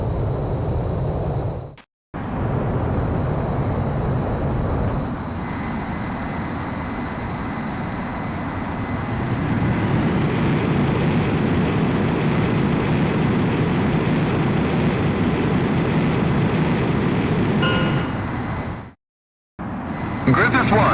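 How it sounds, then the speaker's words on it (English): A fighter jet's engines roar steadily on takeoff in Ace Combat X, a sustained loud whine and rumble that rises in pitch, framed by brief silent cuts, with radio voice chatter over it. "you are cleared for takeoff"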